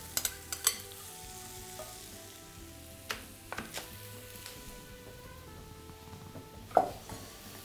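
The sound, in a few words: peppers and onions sizzling in roasting pan with mushrooms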